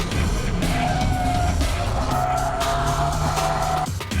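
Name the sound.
car drifting with tires skidding and squealing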